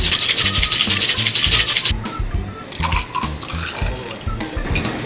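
Gin is poured into a jigger for a cocktail behind a sports bar, a short splashing pour heard alongside clinking and busy bar background noise.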